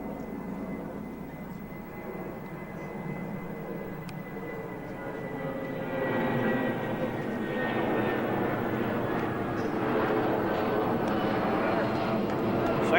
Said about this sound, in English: As another jet plane takes off.